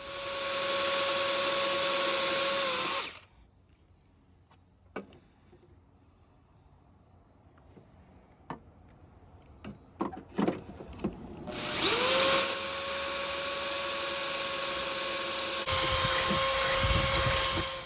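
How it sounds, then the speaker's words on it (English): A power drill whines loudly for a few seconds drilling metal on a Toro Timemaster mower spindle, stops, then starts up again twice with a steady high-pitched drone; scattered clicks and clunks fill the pause. "And then I'll drill out my second hole."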